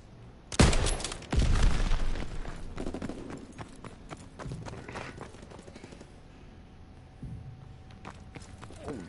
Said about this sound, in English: The Type 100 sounds like it has a suppressor on it.